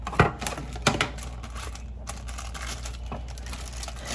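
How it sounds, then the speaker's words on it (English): A knife chops half an onion for pasta at close range, giving a few sharp isolated taps on the board over a steady low kitchen hum. "I want to cut up a little bit of onion for the pasta too"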